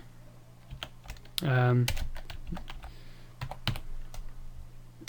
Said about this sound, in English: That's just to let you know how I can type so quickly.